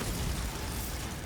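A Bombarda spell detonates in Hogwarts Legacy, a short, dense, broadband blast that fills the whole moment, heavy and rumbling with no pause or separate hits.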